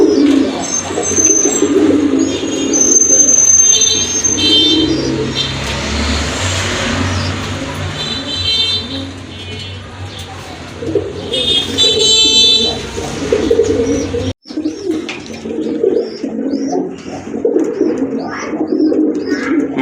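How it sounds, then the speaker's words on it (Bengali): Pet pigeons, including Lahori breeds, coo repeatedly and close by in a bird-sale setting, with layered soft throaty calls, occasional chirps and faint traffic behind. "মাশাল্লাহ, আরেক জোড়া কবুতর"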